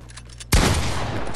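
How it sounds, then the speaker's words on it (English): Gunfire in the video game Fortnite bursts in suddenly after a quiet half-second, a loud, dense volley of shots that fills the rest of the moment with sustained crackling blasts. "Yeah, it's the gunshots."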